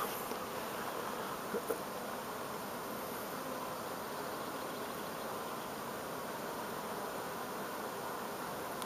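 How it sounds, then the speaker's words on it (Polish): Honey bees buzzing at an apiary beside rapeseed, orchards and dandelions in full bloom in May, a dense continuous hum from many insects with no voices. "Pszczoły pracują od rana do wieczora."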